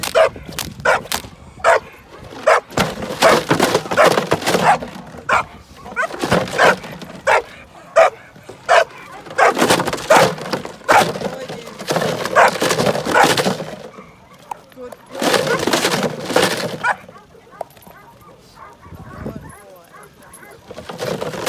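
A dog barks repeatedly during bite training, loud close bursts in irregular clusters with whimpers and yips between them, and people talk over and between the barking.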